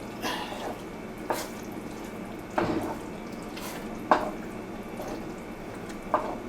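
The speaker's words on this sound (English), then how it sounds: "I'm actually going to rinse them bags out" Water runs from a tap while crawfish bags are rinsed out in a sink, a quiet steady flow broken by several sharp splashes and drips at regular intervals.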